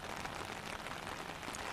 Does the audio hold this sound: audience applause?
no